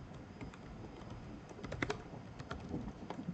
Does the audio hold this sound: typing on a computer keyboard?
yes